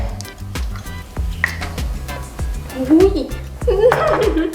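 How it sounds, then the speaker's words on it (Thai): Eggs frying for an omelette in a pan make a steady, soft sizzle running underneath a man's close, continuous talk, with light laughter and a few utensil clinks. "โอเคนะเดี๋ยวเราจะมาเริ่มเจียวไข่กันครับ"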